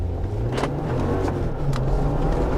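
A Jeep Wrangler's engine hums steadily at close range while doing donuts off-road, a low continuous drone with a few brief sharp noises over it and no voices.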